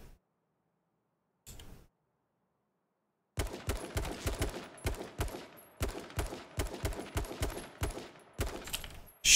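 Gunfire in the H1Z1 battle royale video game: after near silence and one brief shot, a rapid series of sharp, loud cracks in uneven bursts, close and without talk.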